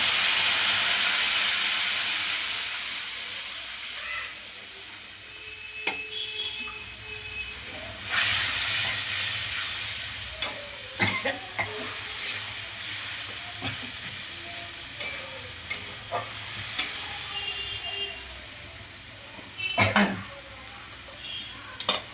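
Tomato paste stirred into a hot frying pan, a steady steaming hiss that swells into a louder sizzle, with scattered scrapes and clicks of the spoon against the pan close by.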